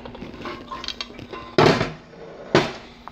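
Glasses set down on a counter during beer yeast rinsing: two distinct glassy clunks about a second apart, close and fairly loud, over quiet background movement.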